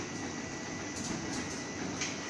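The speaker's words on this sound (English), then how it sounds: "door now closes" Centurion SDO4 T12 sliding gate motor closing a gate, a steady mechanical hum with a faint rolling rumble and a few light clicks, moderately quiet and alone.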